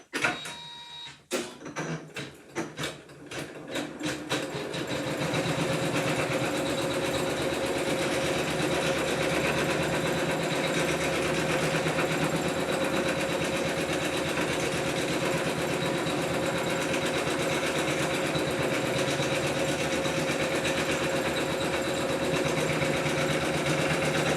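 Embroidery sewing machine stitching out the first placement line of an appliqué design on a tote bag, a few starting clunks settling into a steady, loud, continuous rapid needle hum with no talking.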